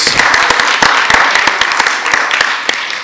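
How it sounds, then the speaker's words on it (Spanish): Audience applause after a talk on safe church environments, dense crowd clapping with sharp scattered claps over a steady roar, loud and close, fading slightly toward the end. "Un aplauso para todos nosotros."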